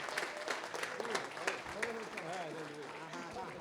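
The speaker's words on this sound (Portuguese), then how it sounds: "Vamos aplaudir Jesus pela vida deles." A church congregation applauding after a prayer and blessing, steady clapping throughout with voices and a singing or speaking leader over it.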